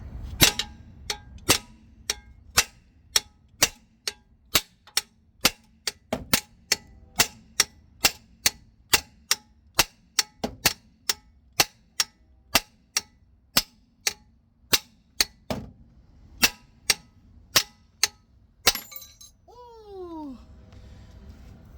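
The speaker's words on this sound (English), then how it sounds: "with a little bit of whacking and thwacking, we just pounded it right here in the arm" Repeated loud hammer strikes pound a control arm out of a 2019 Nissan Versa, roughly one sharp metallic whack per half second for nearly twenty seconds, followed by a brief squeaky creak as the part comes free.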